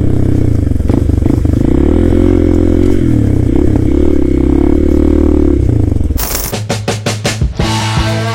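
A Hero Xpulse 210 motorcycle's engine and exhaust idle loudly and steadily up close with a deep, throbbing note, then break into a quick run of sharp, popping revs near the end.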